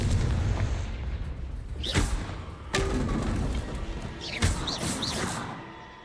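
A Confringo blasting spell in Hogwarts Legacy lets loose a series of heavy booming thuds, several separate impacts spaced over a few seconds with rumbling crashes between them.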